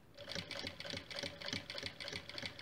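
Sewing machine stitching a fabric coaster, including a short backstitch, runs in a steady rapid mechanical chatter with rhythmic bursts and a faint constant whine, close up and alone.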